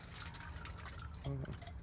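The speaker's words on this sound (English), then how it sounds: "So I'm putting water in right now to see if it's leaking" Water pours and gurgles into the radiator opening of a 25-year-old Honda Civic hatchback being checked for leaks, over steady background noise, with a brief fuller splash near the end.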